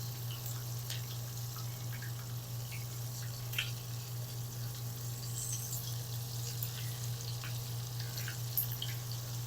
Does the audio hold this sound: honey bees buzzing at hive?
no